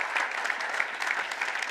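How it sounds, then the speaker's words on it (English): An audience at a research and doctoral award ceremony applauds a professor, dense steady clapping from many hands filling the room at an even level throughout, with no voices standing out. "I think we can applaud Professor Ambrogio Fasoli."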